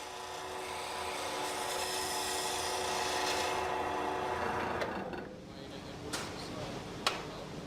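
Wood lathe turning with a chisel cutting the spinning workpiece, a steady rasping scrape with a constant motor hum, easing off near the end, followed by a few sharp knocks.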